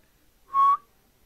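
A single short whistled note from a person, steady and clear, lasting about a quarter second alone in near silence, during a commentary playthrough of Fallout 4.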